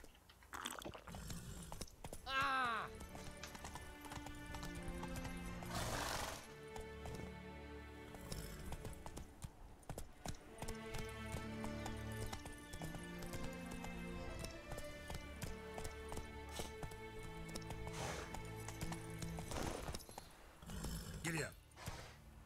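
A horse's hooves clip-clop in The Witcher 3: Wild Hunt, Blood and Wine expansion. The beats repeat steadily over game music and sound effects, and a voice talks over them.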